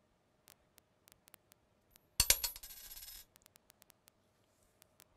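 Two coins tossed together for a school heredity probability demonstration clatter as they land, a sharp metallic jangle and ringing settle about a second long, surrounded by faint scattered ticks and taps.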